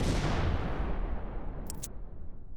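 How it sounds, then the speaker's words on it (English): A missile warhead detonates in a loud, broadband boom that fills the whole clip and rumbles on without a break, with a brief high crackle partway through. "Guided with precision, the warhead detonated just meters from the cockpit. The explosion was devastating."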